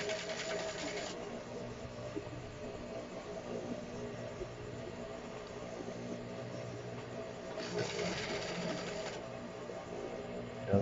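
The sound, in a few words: sewing machine stitching a jeans waistband with a compensating foot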